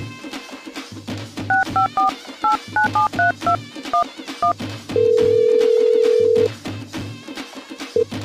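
A phone call ringing in a home setting, heard as a string of short electronic ring tones and a long steady beep over a repeating low pulse, loud and close with no voices.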